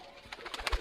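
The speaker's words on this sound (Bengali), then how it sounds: "পুরো নর পায়রা এগুলো" Pakistani pigeons, a lot of males, give a few soft coos close by, with brief throaty pulses building toward the end.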